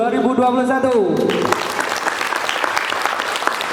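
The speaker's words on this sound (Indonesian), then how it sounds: "Beri tepuk tangan untuk seluruh calon kandidat OSIS periode 2021" A voice speaks briefly, then a school audience bursts into loud, sustained applause for the student council (OSIS) candidates, with dense clapping continuing to the end.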